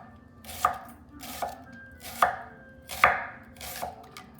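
A knife slices thinly through sweet Tropea red onions on a cutting board, five or six crisp separate cuts spaced roughly evenly, close and clear with no talk.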